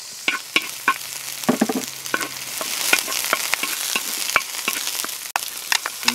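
Onions fry in a hot wok for a salted egg crab sauce, a bright sizzle broken by frequent sharp scraping and clanking stir strokes, with no speech.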